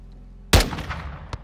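Gunfire in the video game Call of Duty Modern Warfare 2: one sharp, loud shot with a rumbling decay, followed by a brief, fainter crack.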